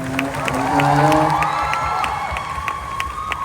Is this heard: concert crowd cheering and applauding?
yes